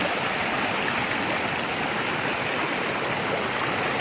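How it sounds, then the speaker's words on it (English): Water rushes steadily in a constant, broadband wash from a creek in Kentucky flowing close by, with no other sounds. "So I'm right beside of a creek."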